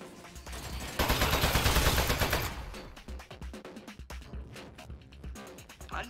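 Turret gunfire in the game Aperture Desk Job, a loud rapid burst that fades into scattered shots and clattering, close and unaccompanied by talk.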